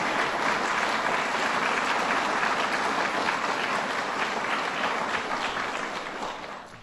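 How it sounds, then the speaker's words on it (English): An audience at an economic development event in Buffalo gives a sustained round of applause, dense clapping from many people that holds steady and then starts to fade at the end. "So let's give them a round of applause one more time."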